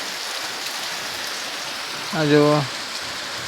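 Light, steady rain falls throughout as an even broadband hiss, with a short voiced call rising briefly over it near the end.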